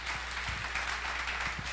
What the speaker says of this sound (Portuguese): Aplauda Jesus aí, bem forte